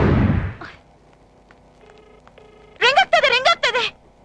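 A mobile phone call in a Kannada film scene: a noisy thump, then faint dial tones, then a loud, melodic ringtone that sounds in several quick repeating bursts.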